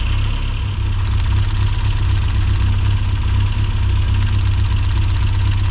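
A Mini Cooper S engine idles close up after injector replacement, a loud, steady low rumble with a faint ticking texture running throughout.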